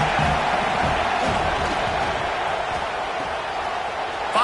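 A stadium crowd in the College Football 26 video game, Texas A&M versus Tulane, roars as a dense, steady wash of noise that holds loud and unbroken throughout.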